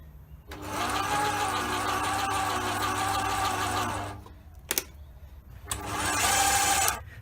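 A metal lathe runs steadily with the carriage power feed engaged, a continuous mechanical whir with gear hum that drops off briefly, then returns after a short click.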